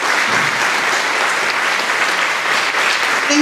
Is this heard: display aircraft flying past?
no